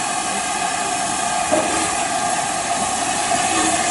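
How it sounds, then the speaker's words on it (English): LMS Black 5 steam locomotive 45407 pulls away on the Jacobite Railway with a loud, steady hiss of steam over a low rumble, close by and without speech. "Here we go, she's underway, she's pulling forward."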